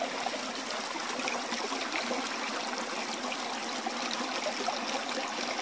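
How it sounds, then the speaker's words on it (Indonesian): Water pours steadily into a cooking pot as porridge is being made, a continuous close trickling and splashing stream with no talk over it. "Saya tambah airnya lagi guys ya."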